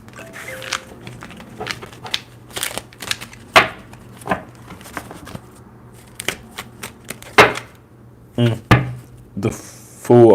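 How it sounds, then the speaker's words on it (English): Tarot cards being shuffled: irregular papery slaps and riffles with scattered clicks and knocks, close by, with no voices. "Still shuffling. Give me a moment."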